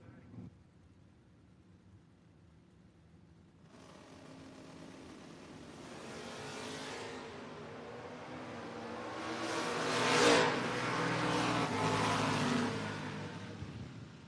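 At a drag strip a Vega wagon and a Camaro race, their engines rising from a distant rumble into a long swelling roar that peaks and then fades, heard from a distance.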